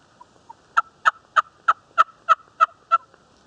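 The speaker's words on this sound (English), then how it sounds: "just heard a gobbler, probably no more than 60, 70 yards away" Wild turkey gobbler in the woods during spring hunting season, a run of about eight quick rattling gobble pulses in steady rhythm, moderately distant and clear against a quiet background.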